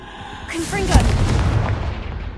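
A Confringo blasting spell goes off in a Hogwarts video game: one sharp, loud boom near the middle, trailing into a rumbling crackle, with game sounds around it.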